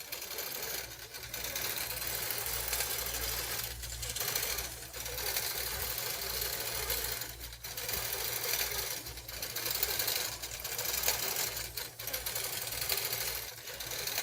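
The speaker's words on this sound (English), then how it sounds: "It's sewing and tying off, and I'll simply hold this thread for a minute as it begins" An embroidery sewing machine stitches and ties off thread with a fast, steady mechanical chatter and a low motor hum, loud and close, pausing briefly now and then.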